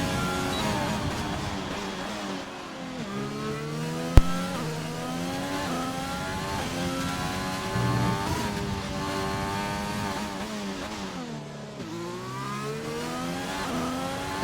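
A race car in a racing video game on a Netherlands track launches into a lap. The engine revs climb and drop through gear changes, loud and steady, with no voices over it.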